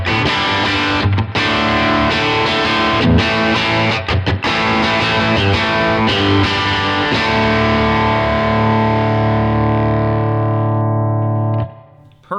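An electric guitar plays through a Line 6 Stadium amp model on its normal channel with the gain turned up. It gives heavily distorted chords and riffs with a few short breaks, then rings out into a fading sustain at the end.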